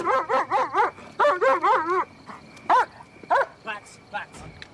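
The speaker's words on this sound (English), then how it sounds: "Deputy Paul Thompson arrived on the scene with his dog Ando" A police K-9 deputy's dog at an armed standoff barks loudly and close in quick runs of sharp barks, then fewer spaced yips and whimpers.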